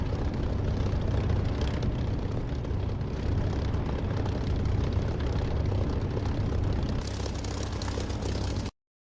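TF-51 propeller aircraft engine in the flight simulator DCS, a loud, steady droning roar held throughout before cutting off abruptly at the end.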